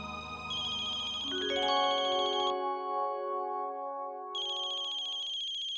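A telephone ringtone plays a bright electronic melody of stepped tones, pauses briefly, then starts ringing again, clear and close with nothing else heard.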